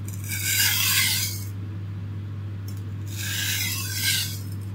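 A knife is drawn across a coarse sharpening stone in two separate bursts of gritty rasping strokes, close and fairly loud, with a quiet pause between them over a steady low hum.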